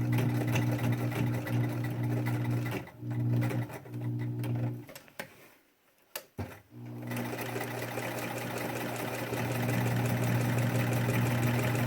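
A sewing machine stitches a pleated fabric mask, its motor whirring in a steady rapid hum that stutters and drops out briefly midway through thick pleats, then resumes at full speed, close and loud.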